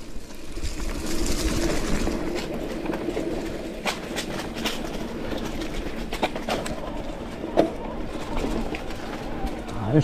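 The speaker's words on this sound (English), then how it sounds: "Bird!" Pigeon or dove cooing along a basic mountain bike trail with climbs and descents at Maarat Araneta, heard intermittently over steady rolling and rattling noise from riding, with a person exclaiming nearby.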